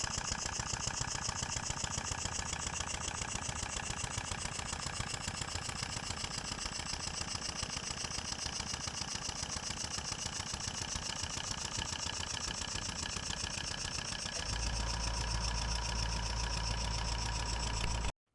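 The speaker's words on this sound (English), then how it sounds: "I'll leave you to watch the engine running for a while" A Stuart No.8 model steam engine runs on compressed air with a steady, fast mechanical chuffing and rattle that continues unchanged for the whole stretch. A low hum joins in near the end.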